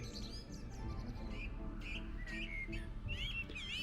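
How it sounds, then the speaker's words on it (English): Several birds chirping and tweeting outdoors in a Lisbon garden, bright overlapping calls at moderate distance over a low ambient rumble. "You can hear birds chirping in the gardens."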